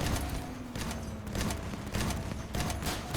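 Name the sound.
weapon fire in the video game Crossout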